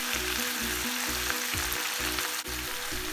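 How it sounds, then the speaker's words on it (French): Bok choy and garlic sautéing in a hot pan, a steady close sizzle with regular stirring scrapes recurring every half second or so, no voices. "on va faire revenir le tout jusqu'à évaporation de l'eau"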